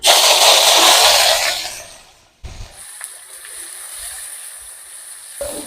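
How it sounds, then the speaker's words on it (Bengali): Panch phoron and chopped onion hit hot oil for a fish curry with taro, giving a loud, broad sizzling splash that drops off sharply, then a quieter steady crackle of frying. "এই তেলের মধ্যেই দিয়ে দেব আমি পাঁচ ফোড়ন দিয়ে দেব পেঁয়াজ কুচি"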